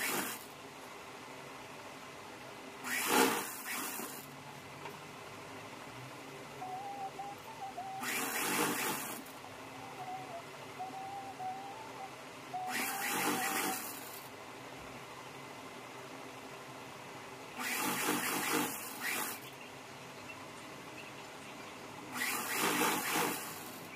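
A sewing machine runs in short bursts stitching a pant pocket seam, each run a brief whirring rattle of about a second, repeated five times with quiet pauses between, close by with no talk.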